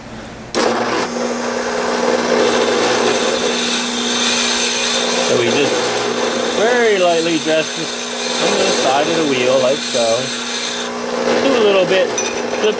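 A grinder cutting and filing Rolls-Royce Phantom 1 piston rings. A sustained, loud rasping whine runs throughout and shifts in pitch as each ring is worked. Some faint voice sounds are mixed in.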